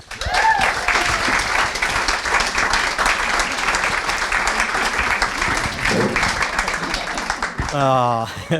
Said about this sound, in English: let's have a nice, lovely round of applause, please, for Mitch Barnes